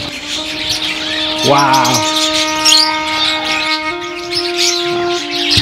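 Birds chirp in a birdhouse on a date farm near Riyadh, Saudi Arabia, with a short run of calls standing out briefly among steady tonal hums and outdoor background noise, as someone exclaims once.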